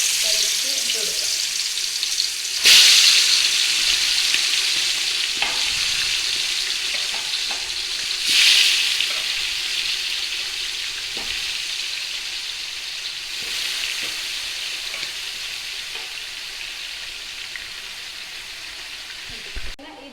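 Chicken pieces frying in a pan for homemade chicken mandhi give a steady, close sizzle, with a few sharp spatters and utensil clinks over about twenty seconds.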